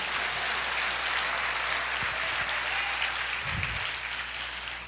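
A church congregation claps together to praise the Lord, a broad steady wash of applause that fills the whole stretch, with a brief low thump near the end.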